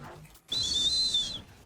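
Short bright whistle blast in a football video game, a single sustained tone lasting about a second that follows a brief low murmur.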